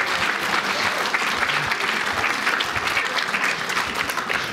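Sustained applause from a live audience at a talk, dense steady clapping filling the room at even loudness throughout, with no speech over it.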